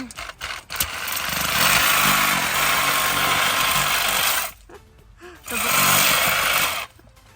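A Sawzall reciprocating saw cuts through small trees, buzzing loudly and continuously up close for several seconds, stopping briefly, then starting again for another burst.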